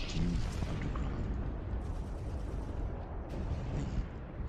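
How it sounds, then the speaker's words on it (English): A gunfire sound effect plays during a Dark Heresy tabletop role-playing session: a dense, continuous rumble of distant shooting and blasts that holds steady at a fairly low level, with no talking over it. "The sound of gunfire slowly subsides"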